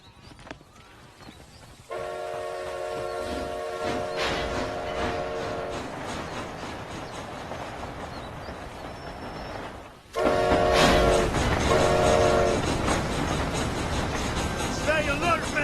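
A train rumbles along continuously in Red Dead Redemption: Undead Nightmare, loud and near with a steady rolling clatter, punctuated by sustained horn-like tones and growing louder partway through.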